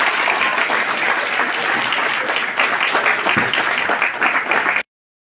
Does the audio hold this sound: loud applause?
yes